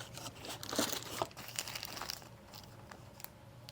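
A plastic bag crinkles and rustles up close, with a burst of crackling handling that settles into softer, quieter crinkles.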